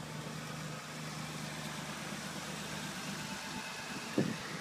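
A 2009 Jeep Liberty Limited with a 3.7-liter V6 idles after a remote start, giving a steady low engine hum at moderate distance with a brief knock near the end.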